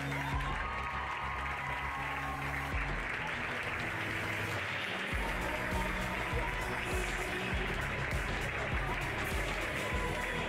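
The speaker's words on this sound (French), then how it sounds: "je vous demande d'applaudir celles qui vont monter sur les marches" An audience at an equestrian awards ceremony for a pony eventing elite grand prix applauds the medal winners, a steady dense wash of clapping that holds loud and even throughout, with a faint voice now and then underneath.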